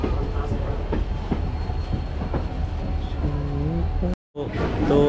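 Hussain Sagar Express running on tracks after leaving Wadi Junction on the Hyderabad to Dadar route, a steady loud rumble with rhythmic clacks from the wheels, a brief squeal, then a sudden dropout before the noise resumes.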